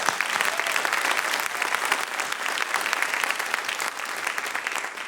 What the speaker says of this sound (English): I'd love to just give a round of applause there.